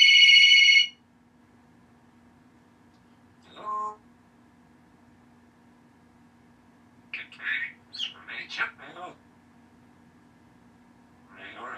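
A pet bird imitates a ringing phone, a loud shrill electronic trill at the start followed by scattered chirps and whistles against a steady background hum in a quiet room.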